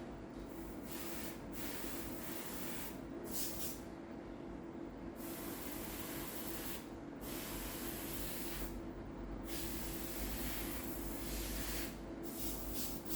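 A steady, continuous hiss of spray paint on a 3D-printed bust, with a few brief pauses, close and fairly loud throughout.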